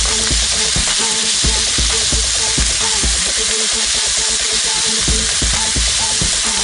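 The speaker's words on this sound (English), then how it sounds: "Let the garlic cook for a minute, take the bite out of it." Minced garlic sizzling loudly in a pan for a Chinese beef lo mein, with steady frying hiss and repeated scraping clicks of stirring throughout, no talking.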